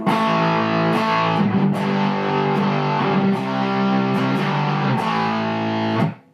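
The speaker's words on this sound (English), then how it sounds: "Let's take it all the way down where the distortion's backed off all the way." Electric guitar run through a modded Boss DS-1 pedal with its distortion backed fully off, a sustained sequence of strummed chords with several crisp pick attacks, up close, ending in a quick cutoff; no talking.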